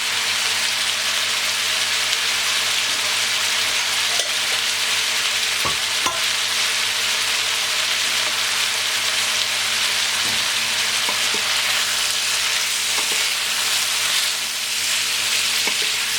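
Smoked cooked pork belly, brown button mushrooms and vegetables sweating in a pan, a dense and even sizzle that holds steady throughout with a few faint clicks, close and loud with no voices.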